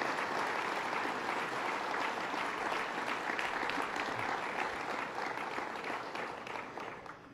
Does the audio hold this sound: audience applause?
yes